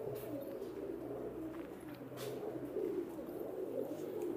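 Pigeons in a loft coo softly and continuously, a low rolling murmur of several birds close by with faint scuffs in the background.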